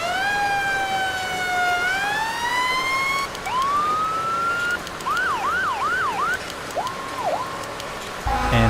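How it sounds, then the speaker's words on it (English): Emergency vehicle siren in the game FS:911, loud and close, cycling through a rising wail, a series of quick yelps and short chirps before cutting off. "Sirens."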